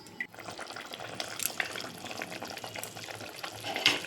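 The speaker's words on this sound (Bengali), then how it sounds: "দেখতেই পাচ্ছ এখানে জলটা ফুটে উঠেছে।" Water bubbling at a boil in a covered pot for a fish and potato curry, a steady soft churning hiss with faint pops, close and continuous.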